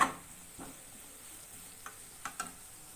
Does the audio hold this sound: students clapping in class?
no